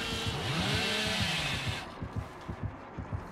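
Chainsaw in a multiplayer video game whirring loudly for almost two seconds with a rising and falling pitch, then cutting to lower rhythmic thuds like footsteps or a heartbeat pulse.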